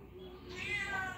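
A pet cat meows from up in a tree outdoors, a short drawn-out cry rising in the middle, faint and at some distance over low background noise.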